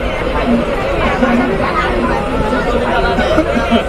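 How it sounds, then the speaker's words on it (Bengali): Passengers crowded around the door of the Kapotakkho Express, a packed Bangladeshi train during Eid travel, chattering noisily in a constant close babble of overlapping voices alongside the train's rumble. "ট্রেনে এত ভিড় দরজায় প্রায় যাত্রীরা গ্যাঞ্জাম করছে কিচমিচের আওয়াজ করছে"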